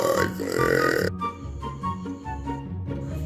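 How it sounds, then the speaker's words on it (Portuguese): A loud, drawn-out burp at close range, lasting about a second with a strong guttural rumble, followed by quieter background sounds and brief vocal noises. "Arrote comigo por um dia."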